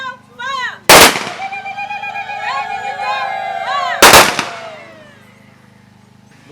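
Rifle volley fired at a funeral for Zimbabwe's first female helicopter pilot: two loud, sharp cracks about three seconds apart, each ringing out with a long echoing decay, between shouted commands.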